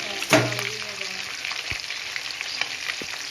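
Lahori fried fish sizzles in hot oil in a pan, a steady bright crackle with a sharp utensil clink near the start and a few small knocks, no talk.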